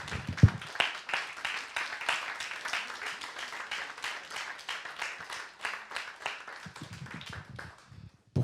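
A church congregation applauding during a Sunday worship service, a dense and steady round of clapping that carries on for several seconds and tapers toward the end, with no one talking over it.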